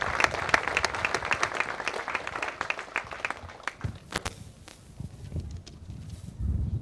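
Applause rings out from the crowd at a U17 girls national softball championship final, a patter of clapping that thins and fades partway through before some low rumbling at the end.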